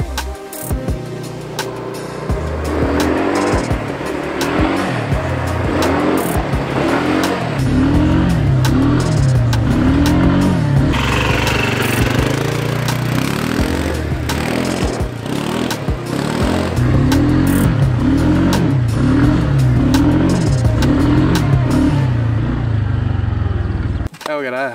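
A motorcycle rides off-road through fields and woods, its engine loud and close throughout, revving and surging in repeated throttle bursts over bumpy ground with steady wind noise.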